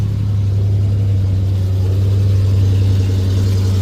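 A four-wheel-drive junkyard truck engine running just after cranking up, with a loud, steady low rumble and drone close by and no breaks.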